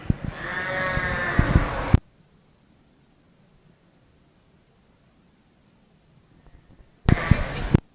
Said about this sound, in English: And our national winner in the ewe lamb portion of the futurity for Southdowns, Lexi Grace with a Scramblin' ewe.